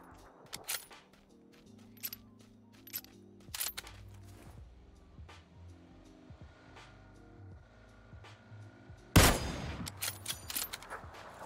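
Gunfire in PUBG comes as scattered sharp single shots and short bursts, some distant and one loud close volley near the end, over a quiet game background with low hum.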